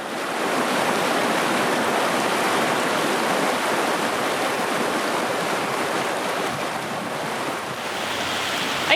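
A small creek beside a highway flows in a steady, close, full rushing wash of water that stays constant throughout, with no voices.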